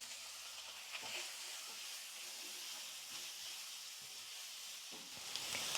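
Chopped onion and curry leaves sautéing in a hot pan give a soft, steady sizzle and hiss, faint and continuous with a few small clicks of stirring.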